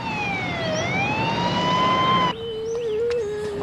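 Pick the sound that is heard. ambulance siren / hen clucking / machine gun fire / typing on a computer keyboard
ambulance siren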